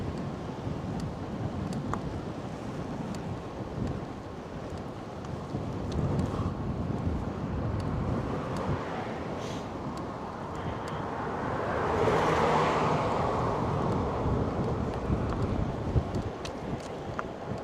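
Headwind roars across the microphone on a cycling ride in New Mexico, a continuous low buffeting rush that swells louder for a few seconds partway through.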